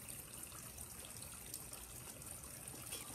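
Water trickles and flows steadily outdoors in nature, a faint, continuous babbling stream sound without any talking.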